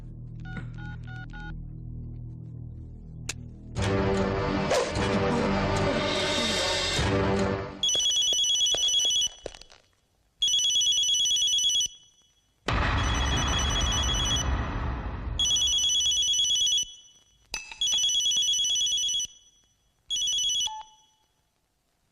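A telephone ringing in a tense film scene, starting with a low tone and a loud burst before bright electronic rings come in repeated bursts separated by short gaps, with no talk over them.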